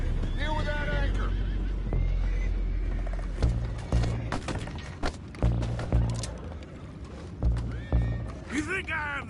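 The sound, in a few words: horses neighing and hooves in Red Dead Redemption 2 video game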